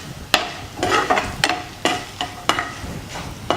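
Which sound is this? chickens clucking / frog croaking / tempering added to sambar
tempering added to sambar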